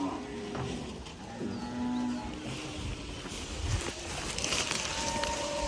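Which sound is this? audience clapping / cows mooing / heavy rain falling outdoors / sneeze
cows mooing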